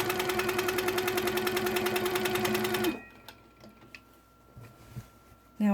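A home sewing machine stitches in a fast, even mechanical chatter for about three seconds while quilting orange peel curves with rulers, then stops abruptly, leaving quiet room noise and a few soft handling bumps.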